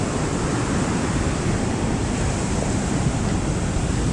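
Ocean waves on Copacabana beach in Rio de Janeiro, a continuous loud broadband roar of surf mixed with wind buffeting the microphone, steady for the whole stretch with no talk.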